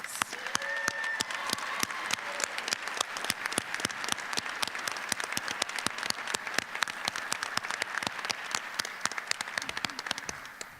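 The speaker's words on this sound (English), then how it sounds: "Let's give the whole class a round of applause." Steady applause from a crowd at a nursing college graduation ceremony, dense clapping with sharp individual claps standing out, sustained evenly for about ten seconds.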